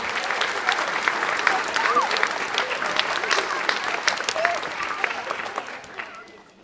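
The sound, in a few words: audience applause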